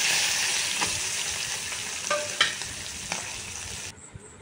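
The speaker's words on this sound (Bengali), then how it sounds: "ঠান্ডা করে তারপর আবার মাছ ভাজতে লাগলাম।" Small fish frying in hot oil, a steady close bright sizzle with a few soft stirring scrapes before the sound drops away at the end.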